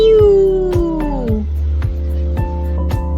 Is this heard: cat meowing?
yes